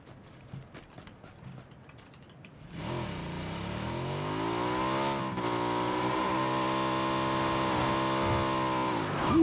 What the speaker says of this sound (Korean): 어? 오토바이.